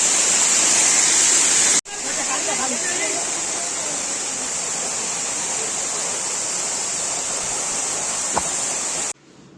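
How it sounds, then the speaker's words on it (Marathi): Nani Fall waterfall at Bhandardara roars as a steady, loud broadband rush close by, continuous for most of the stretch with a brief break near the start. "इथं सुंदर नजारा दिसतोय तो नानी फॉलचा"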